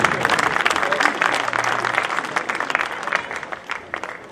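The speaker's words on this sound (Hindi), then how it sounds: "तालियां अपने लिए ही बजाएं।" Applause from a mushaira audience in Fazilka, greeting a poet at an all-India poetry gathering, a dense burst of clapping that carries through with some voices mixed in.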